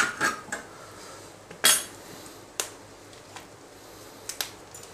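A spoon clinks and taps against a pan or bowl while green chilli thecha mixture with turmeric and salt is stirred: a handful of sharp, separate metallic knocks with quiet gaps between them, close by.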